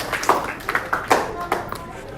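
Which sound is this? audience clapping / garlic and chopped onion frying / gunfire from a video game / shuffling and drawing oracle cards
audience clapping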